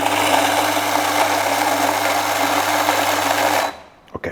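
A coffee grinder grinds beans coarse for French press: a loud, steady motorized whir for several seconds, then it stops abruptly, followed by a couple of faint clicks.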